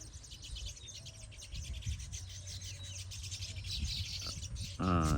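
Baya weaver birds chirp in a busy, overlapping chorus beside their woven green nest near a freshly harvested field, with one louder, closer call near the end.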